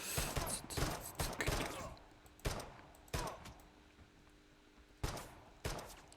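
Bursts of rapid gunfire in the video game Relicbound crack out in clusters, followed by several single sharp shots spaced apart, with quieter gaps in between.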